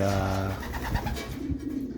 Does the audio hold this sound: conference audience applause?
no